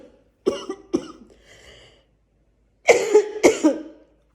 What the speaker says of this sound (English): Have you ever heard someone cough like me all the time?